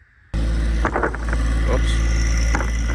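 A John Deere 1025R compact tractor engine starts and settles into a loud, steady idle hum while lifting a snow blower. There are a few brief knocks and clatters over the engine.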